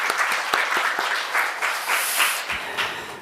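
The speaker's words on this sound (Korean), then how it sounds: "한 번 더 박수 주시죠." A church congregation applauding during a Christmas Day service, a full round of clapping from many people in a hall that swells in uneven waves and carries on throughout.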